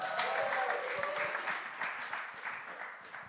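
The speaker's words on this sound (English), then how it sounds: "May I have an applause for Johanneke?" An audience at a documentary film school premiere night applauds, a steady wash of clapping from a mid-sized crowd heard at some distance, fairly quiet and tapering slightly, with a faint voice near the start.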